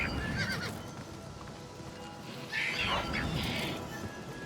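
Horse neighing with clip-clop hooves in the game Oblivion Remastered, a bright whinny rising over steady hoofbeats and ambient background, fairly close and moderately loud.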